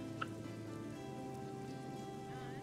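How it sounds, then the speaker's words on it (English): Steady rainfall in the Viking strategy game Northgard, a soft continuous patter over a low ambient hum of the game world, with a faint brief tick near the start and no talking. "very rainy right now. And thundery"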